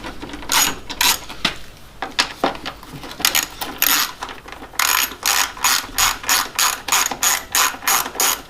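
A socket ratchet clicks rapidly and loudly in quick bursts, then in an even rhythm of about a dozen strokes, undoing 8mm bolts to remove the front bumper of a Mk3 Volkswagen Golf during a headlight replacement.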